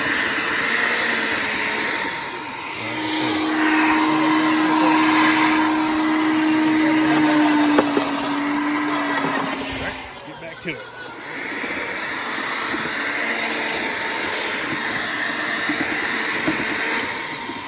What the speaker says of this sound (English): It chopped all those sticks up and ran that tiller at the same time